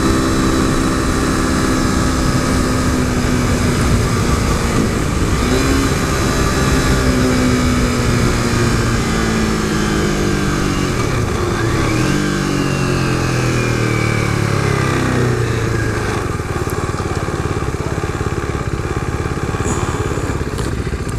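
A modded 2015 KTM RC 390 motorcycle accelerates hard from a takeoff, its single-cylinder engine loud and close, pitch climbing through several gear shifts under heavy wind rush, with no voices.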